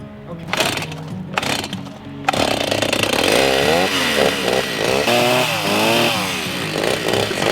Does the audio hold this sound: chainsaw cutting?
yes